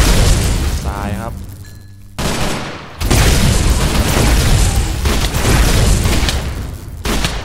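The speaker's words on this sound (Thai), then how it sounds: "ยิงไม่เลิกเหรอโอ้ยมันดอกปืนได้ด้วยครับปืน AKM เรียกได้ว่าเป็นปืนที่แรงนะครับ" AKM rifle fire in a zombie video game, with loud continuous bursts and booming shots that almost fill the clip and a brief pause near the middle.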